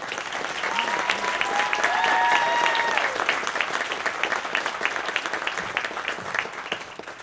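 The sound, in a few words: big round of applause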